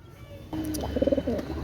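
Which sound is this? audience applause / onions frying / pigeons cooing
pigeons cooing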